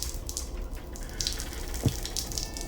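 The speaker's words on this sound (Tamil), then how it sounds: "தண்ணி சவுண்டு கேட்குது." Running water in a horror video game, a steady faucet-like trickle and splash with one brief low knock partway through, moderately quiet and without speech.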